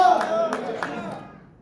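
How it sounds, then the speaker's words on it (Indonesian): Church congregation at Sunday worship clapping for God, a few loud, spaced claps over a sustained tone that fades out within a second or two. "Banyak orang yang setuju tepuk tangan bagi Allah kita."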